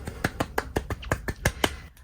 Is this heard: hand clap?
yes